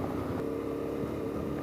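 Yamaha Ténéré 700 motorcycle accelerating on an offroad track, a steady, loud engine drone with a continuous low rumble throughout, close to the rider.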